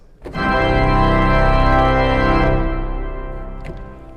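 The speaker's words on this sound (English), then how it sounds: "that comes from the organ, and it sounds something like this." A pipe organ with all stops pulled blasts a full, rich sustained chord, swelling loudly and then fading away.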